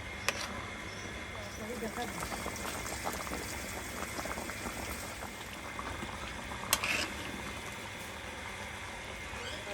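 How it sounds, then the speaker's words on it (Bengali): Broiler chicken curry broth boiling in a pot over a clay stove, a steady bubbling simmer with a couple of small clinks. "ঝোলের পানি ফুটে উঠলে আর বেশিক্ষণ সময় লাগবে না"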